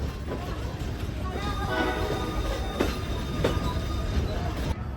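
A Lehigh Gorge Scenic Railway train rolls into the station with a steady loud rumble of wheels on rails, faint squeals and a few sharp clanks, with no voices over it.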